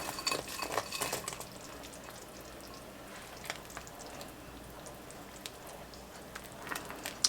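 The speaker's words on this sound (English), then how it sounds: "Give that a stir." A spoon stirring okra into a pot of New Orleans style gumbo, with scraping, clinking strokes against the pot over a soft bubbling background, strongest at the start then quieter, close by and without talk.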